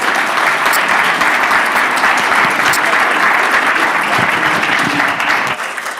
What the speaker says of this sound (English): let's give all of these panelists a big round of applause